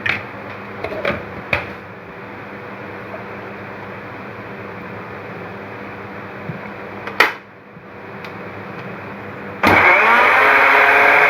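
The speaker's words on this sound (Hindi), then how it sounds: "ये देखिए इंतहाई इजीली ये ब्लेंड होने लग गए।" A blender purees ingredients into a smooth paste for a gravy: a loud, steady motor whir with a few clunks at the start, a brief dip around the middle, then a louder, harsher spin near the end.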